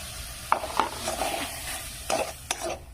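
Chusi pitha dough is kneaded by hand with paste, making soft, faint, wet squishing presses and slaps at irregular intervals in a quiet room.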